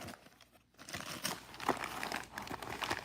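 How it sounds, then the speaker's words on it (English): A toy package is unwrapped after the tape comes off, giving close, irregular crinkling and crumpling of wrapping with brief tearing rustles over about three seconds. "And let's unwrap this one."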